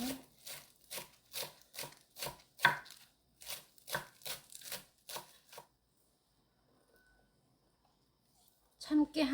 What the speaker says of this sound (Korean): 송송 썰어줍니다.